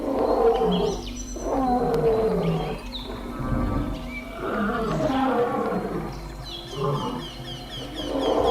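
A lone lion roars and growls in bursts at a pack of wild dogs in the wild, loud and close, with several deep rumbling calls and higher yelps or cries mixed between them.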